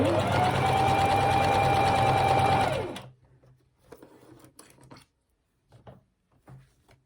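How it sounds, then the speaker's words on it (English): A sewing machine runs a steady stitching burst along a pajama bottoms waistband, then stops abruptly, leaving a few quiet handling clicks and faint rustles. "I'm just sewing along the edge"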